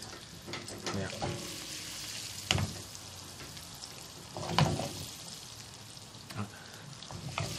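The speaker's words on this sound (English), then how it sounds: "These have been frying now in the oil with the spice for about 3 minutes." Eggs frying in hot oil with spice over a high flame, a steady dense crackling sizzle with a few louder pops, close and continuous throughout with no talking.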